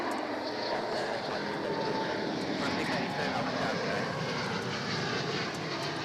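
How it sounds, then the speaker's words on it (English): A Fiji aircraft takes off from runway 16 at Melbourne Airport, its engines giving a loud, steady, broadband roar that holds unbroken for the whole stretch. "Watching this magnificent aircraft depart."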